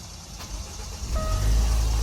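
Range Rover engine cranks and fires up, rumbling louder as it settles into a steady idle close by, with a faint beep partway through.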